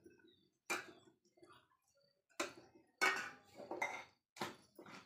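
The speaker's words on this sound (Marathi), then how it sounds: "भाजी पण याच्यात कुटून घेते" Greens and garlic pounded in a mortar with a pestle, a handful of sharp, close knocks spaced about a second apart with quiet gaps between them.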